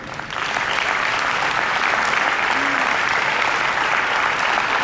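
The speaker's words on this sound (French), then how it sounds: "Je tiens sincèrement à remercier tout le personnel communal, je crois qu'il faut les applaudir." A roomful of people applaud the municipal staff during a town council meeting. Steady, loud, sustained clapping from a large group, even in intensity throughout with no pauses.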